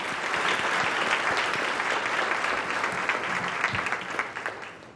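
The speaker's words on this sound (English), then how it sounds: "I think we really need to give those a round of applause because they've worked very, very hard at this" Steady audience applause at an economic opportunity forum, a dense, even round of clapping from a large room that holds throughout and tapers slightly at the end.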